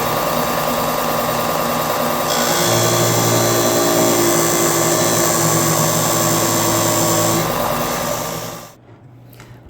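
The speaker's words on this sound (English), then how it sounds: "I'm going to take that bottom section and sand it down so that that will be straight enough" A power tool sands the bottom section of a scrap-wood marquetry panel, a loud continuous whirring drone that rises in pitch partway through and stops near the end.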